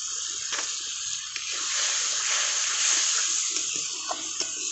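Spice-rinsing water poured into frying spice paste over medium heat, heard as a steady hissing, sizzling wash that holds evenly for several seconds with a few small pops, fairly close and with no talk.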